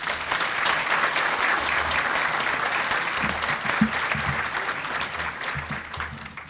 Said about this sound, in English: Congratulations, graduate nurse Sky Woodworth.